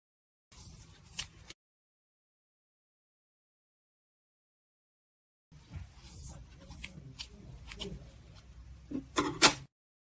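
Scissors cut through yellow yarn in a few short, close snips: a brief burst, a pause of quiet, then a longer stretch of soft crisp cutting and handling noise.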